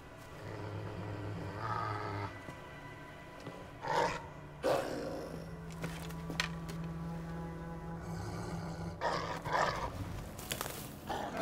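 A dog pup whimpering in Assassin's Creed Valhalla: a few short, faint whines at spaced intervals over a steady low ambient hum, with quiet rustling between them.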